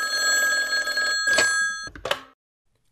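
A telephone bell rings loudly in rapid repeated bursts for about two seconds, then stops and leaves near silence, set in an Algerian comedy police scene involving an inspector.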